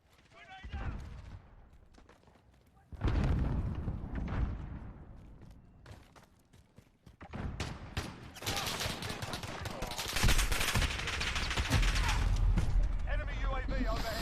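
Loud gunfire and a grenade blast in a Call of Duty Modern Warfare beta multiplayer match, dense bursts of automatic fire and booms building through the clip, with game voice chatter underneath.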